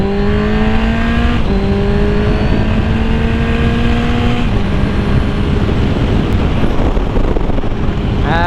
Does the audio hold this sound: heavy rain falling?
no